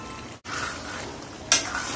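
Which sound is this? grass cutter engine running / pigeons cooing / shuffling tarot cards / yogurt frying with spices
yogurt frying with spices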